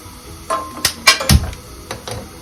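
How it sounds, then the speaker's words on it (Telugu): Sesame seeds being dry roasted in a pan: a few sharp, close clinks and scrapes against the metal, spaced irregularly, with a faint dry hiss between them and no voices. "ఈలోపు మనం నువ్వులు ఫ్రై చేసుకున్నామండి డ్రై రోస్ట్ చేసుకున్నాం"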